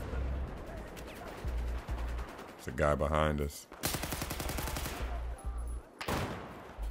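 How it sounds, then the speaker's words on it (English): Bursts of rapid gunfire from Battlefield 4 multiplayer crackle loudly in several volleys, with someone speaking briefly between them. "All right, I hear gunshots."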